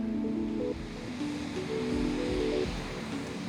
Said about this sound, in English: You can hear the ocean breathing here.